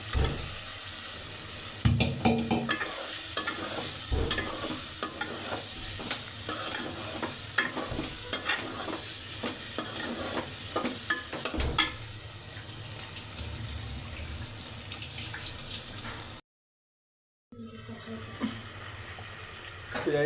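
Chicken liver braising in a pan with cloves and black pepper: a steady, close sizzle runs throughout, broken by frequent scraping stirs and clatter. It drops out briefly near the end, then resumes.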